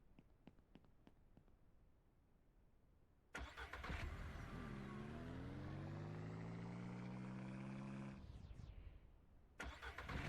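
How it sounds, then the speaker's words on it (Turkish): A car engine in the farming game Ranch Simulator cranks and catches with a loud start, then holds a steady droning idle that gradually rises in pitch before cutting off abruptly, with clicks and clunks around it. "Arabayı yanlışlıkla durdurdum."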